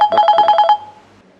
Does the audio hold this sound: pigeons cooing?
no